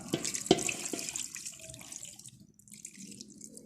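Vinegar pours steadily into a pot of chicken and pork with a splashing, gurgling stream, preceded by a few close clinks, then trails off.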